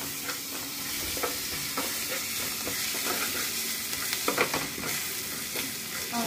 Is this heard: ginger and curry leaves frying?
yes